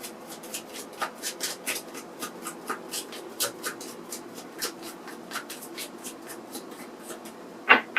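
Oracle cards being shuffled and one drawn, a close run of quick papery flicks and riffles repeating steadily for several seconds, ending in a brief sharper rustle.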